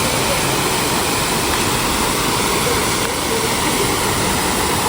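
A natural waterfall in a dense forest gives a loud, steady, unbroken roar of rushing water that fills the whole clip without pause.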